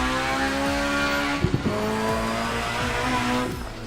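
A simulated car engine in a driving simulator game runs steadily with rising and falling revs, a few sharp knocks near the middle, and no talking over it.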